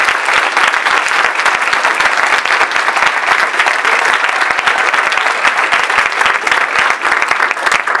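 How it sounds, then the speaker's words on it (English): An audience at an end-of-season awards ceremony gives a loud, sustained round of applause, dense and even, with no speech on top. "take one more applause and give it to Jennifer Mee"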